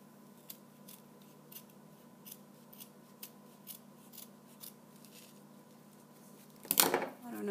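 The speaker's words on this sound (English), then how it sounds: "I'm gonna try to cut it. Just cut that extra." Scissors trim the extra material from a Halloween ghost shaker wand, with a series of separate snips at a slow, even pace, then a louder rustling burst of handling near the end over a steady low hum.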